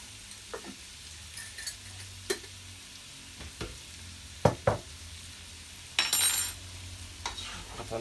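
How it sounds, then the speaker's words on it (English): Curried king prawns are stirred in a pan, with a few scattered utensil scrapes and knocks over a quiet simmer, then a brief brighter sizzle near the end. "That's a nice stir."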